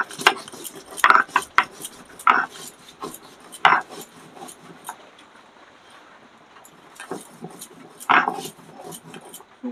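Dry fried cumin, fennel, cardamom and cinnamon are crushed on a stone grinding slab with a rolling stone pestle, producing intermittent close scraping and gritty knocks in a quiet kitchen.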